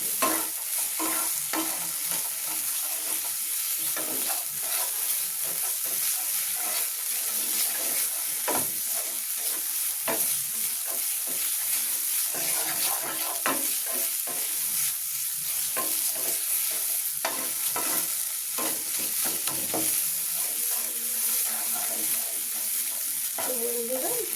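Masala frying in a pan with coriander leaves added, heard as a constant hissing sizzle layered with frequent scraping and stirring strokes of a spatula, close up throughout.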